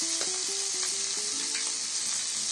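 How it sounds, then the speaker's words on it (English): Chopped garlic and shallots sautéing in a pan, a steady bright sizzle with a few soft scrapes as they are stirred, close and continuous. "We move this around and ensure that this just kind of begins to saute or turn translucent in color."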